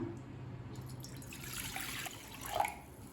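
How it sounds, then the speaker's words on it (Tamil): Water pours and splashes steadily into a cooking pan nearby while making vermicelli payasam, rising briefly near the end before continuing. "தேவையான அளவு தண்ணி சேர்த்துக்கலாம்."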